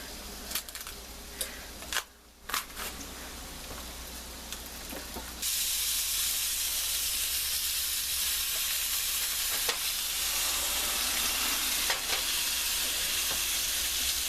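Peeled plantains frying in a pan, with a few sharp clatters and stirs early on before a loud, continuous hissing sizzle swells up and holds, close and unbroken, with no talking.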